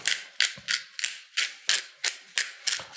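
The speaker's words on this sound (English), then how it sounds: "good grinding of black pepper." Black pepper is ground with a pepper mill over green beans wrapped in bacon, a close, dry, crunching rasp repeated in regular twists, about three per second.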